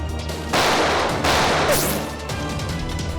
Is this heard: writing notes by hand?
no